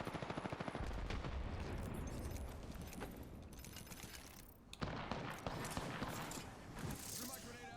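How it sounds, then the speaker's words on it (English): Rapid gunfire from an Apex Legends firefight rattles in dense bursts with sharp cracks and clatter, loud and close, with a brief lull near the middle before the shooting resumes. "Shot fired."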